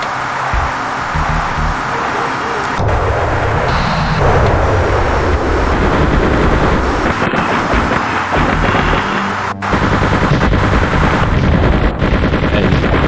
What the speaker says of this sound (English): let's start the gun run